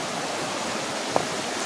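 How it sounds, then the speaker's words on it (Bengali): Flowing stream water near a roadside in Odisha, heard as a steady broad rushing wash at moderate level, with a single brief click near the end and no talk. "সেই দেখুন জলটা যাচ্ছে।"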